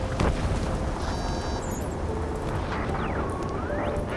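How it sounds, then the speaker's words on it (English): A roaring, rumbling din of jet engines and a battle over a city in Ace Combat 7, loud and continuous, with a whining tone that falls and then rises again partway through. "Gunfire and the roar of jets echoing through the streets."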